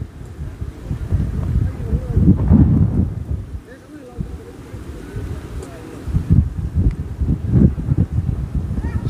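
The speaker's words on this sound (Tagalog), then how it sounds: "Sobrang lakas talaga ng hangin." Strong wind buffets the microphone outdoors at Monte Maria in Batangas City, near a church, as a steady low roar with louder gusts around the second and seventh seconds; a person talks faintly underneath.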